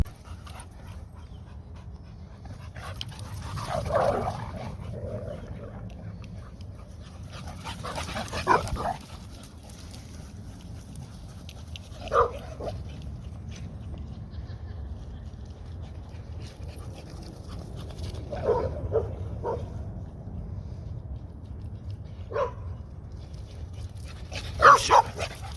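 Several pet dogs bark, whimper and pant at home in short scattered bursts, with quieter stretches between, fairly close and moderately loud.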